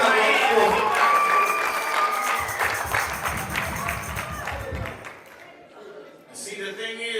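A church congregation breaks into applause and cheering that is loud at first and then eases off, while a voice speaks over the clapping.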